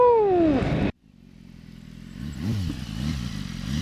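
BMW S1000RR sport motorcycle ridden on a cold, wet road: a loud engine note sweeps down in pitch and cuts off sharply, then a steady low rumble with wind and road noise builds back up.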